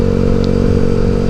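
Steady loud engine drone of a 2013 Yamaha Xeon RC motorcycle while riding, continuous low rumble with wind buffeting and no talk.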